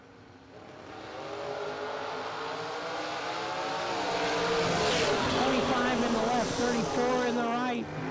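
Two 1967 Camaros launching side by side at a drag strip, engines rising from a rumble into a loud, building roar that swells and sustains, with an announcer talking over it.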